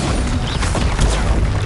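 A Bombarda explosion spell in a video game: a dense, loud, continuous blast of rumbling noise lasting under two seconds, swelling slightly near the end, with no voices heard.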